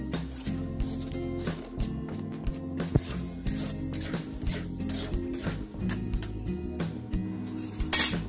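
Potatoes sautéing in a pan with a little oil, with cutlery and utensils clinking and scraping against cookware throughout at a steady close level, a few sharper clinks standing out.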